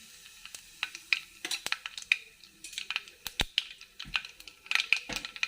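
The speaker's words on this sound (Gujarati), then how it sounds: "હવે તેલ થઈ જાય એટલે આપણે થોડી એમાં રાઈ એડ કરશું. થોડી હિંગ એડ કરશું." Mustard seeds and asafoetida sizzle in hot oil for a Saurashtra green oro recipe, a close burst of sharp crackles and irregular pops over a low hiss.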